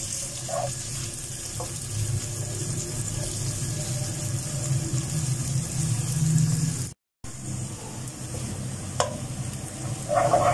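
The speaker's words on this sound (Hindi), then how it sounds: "प्याज में मैं थोड़ा सा नमक डालूंगी ताकि ये गोल्डन हो जाए।" Onions frying with salt in a pan, a steady, fairly loud hiss and sizzle with a few light spatula taps, cut by a brief dropout partway through.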